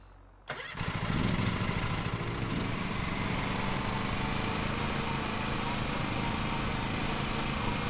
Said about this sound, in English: let's hop in our tractor and fire this baby up